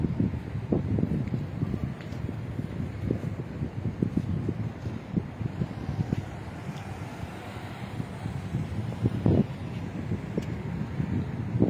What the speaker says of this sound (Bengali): যে বাতাস দিয়ে বর্তমানে